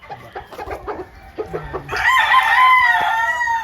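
A gamefowl rooster crows loud and close on a farm, one long drawn-out crow following a run of short clucks and calls from nearby fowl.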